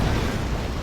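Artillery fire in Rome: Total War lands as a loud, rumbling explosion, a brief, dense burst of low-heavy noise with no voices.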